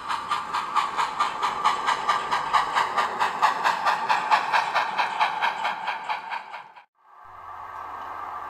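Two coupled helper steam locomotives running as one train on Sherman Hill, back toward Cheyenne, working hard with rapid, even exhaust chuffs and hissing steam for several seconds, then a sudden drop to a quieter steady rumble.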